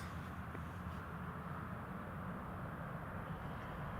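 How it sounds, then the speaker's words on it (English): A TUI Boeing 737 Max 8 departs Newcastle Airport, heard as a steady, broad distant jet roar that holds level throughout without a clear rise or fall. "Right, TUI is just departing now. There goes the Max 8."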